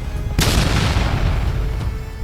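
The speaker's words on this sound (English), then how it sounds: "Over 150 guns blaze, filling the sky with steel and fire." Heavy anti-aircraft guns of the battleship Yamato fire a sharp, loud burst that rolls into a long, dense boom and fades over about two seconds.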